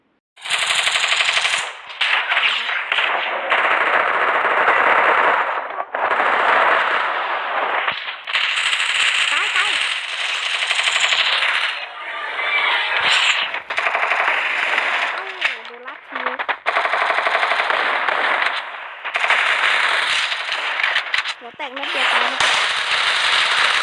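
Gunfire in a ranked match of a shooting video game: loud bursts of rapid automatic fire, nearly continuous with brief pauses, with a voice talking over it.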